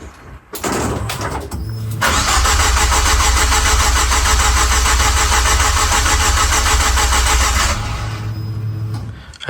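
A Ford Orion ST170 conversion with a newly fitted MaxxECU cranks loudly and steadily for several seconds, the starter motor's rhythmic churning close up, then stops without the engine catching.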